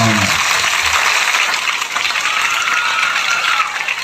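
An audience claps for the teachers at a government school in RR Labour Colony, Adoni, during a school kit distribution event: a dense, even wash of applause fills the room for a few seconds with no speech.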